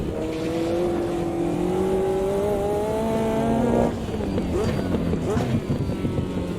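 A high-power turbocharged race car in the sim racing game Automobilista 2 revs hard through a fast sweeping corner, its engine note climbing steadily before a sudden shift, then droning on loud and continuous with a faint whistly wind-like hiss.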